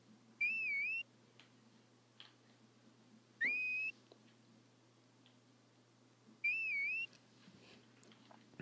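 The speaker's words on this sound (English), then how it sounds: "Let's whistle." Three short rising whistles in Harvest Moon: A Wonderful Life, each about half a second long and evenly spaced a few seconds apart, clear and moderately loud over a quiet game background with faint ticking sounds.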